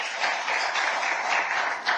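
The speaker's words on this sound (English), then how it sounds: "Let's give him a big round of applause." An audience at a children's climate summit in Addis Ababa breaks into a short burst of steady applause, a dense wash of clapping that swells briefly near the end.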